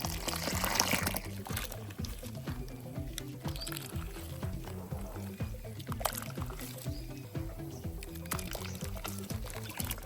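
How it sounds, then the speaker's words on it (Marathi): Water being poured into wheat starch paste: a continuous splashing, trickling pour, close and fairly steady, louder at the start, with a low tonal hum underneath. "आता ह्याच्यामध्ये पाणी टाकायचं भरपूर आणि नंतर मग गाळून घ्यायचं"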